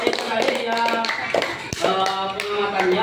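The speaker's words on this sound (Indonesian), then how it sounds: "Oke, tepuk tangan untuk kelompok 2" Students clap for group 2 after a floor gymnastics forward-roll demonstration in a school physical education class, a brief burst of close applause with taps and voices around it.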